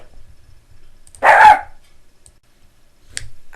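A single short burst of dog barking rings out clearly near the start, then quiet room tone follows with a faint knock or click near the end.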